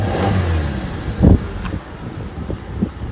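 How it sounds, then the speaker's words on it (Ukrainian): A petrol engine in a 2006 Skoda Octavia gives a short rev: one sharp burst of throttle, then a lower idle with a few lighter blips, heard fairly close in a quiet space. "Машина катається, коли я газую,"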